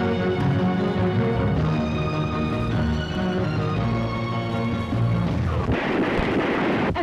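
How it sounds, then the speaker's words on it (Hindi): Gunfire in a Pakistani action film, heard as a dense, continuous roar of shots and booms under a thick music bed, loud and unbroken for the whole stretch. "गोलियां दी आवाज़ कित्थों आ रही है?"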